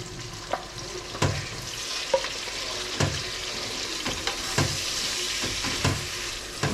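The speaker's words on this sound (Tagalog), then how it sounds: "Stir fry lang dito sa oil. May oil na yan, yung kawali." Hotdog pieces stir-frying in oil in a wok for sweet Filipino spaghetti, a steady close sizzle broken by repeated sharp scraping clacks of a spatula against the pan.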